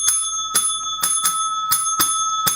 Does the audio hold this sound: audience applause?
no